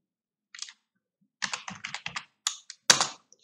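Bursts of computer keyboard typing while working on a web design image gallery: a short cluster of clicks, a pause, then a quick run of keystrokes ending in a louder final tap, close and clear with no talking.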